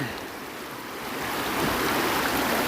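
River water rushing steadily while someone wades across it on flooded farmland, a broad, close, continuous wash that swells slightly louder toward the end, with some wind buffeting.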